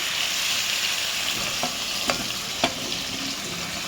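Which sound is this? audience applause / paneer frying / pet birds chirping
paneer frying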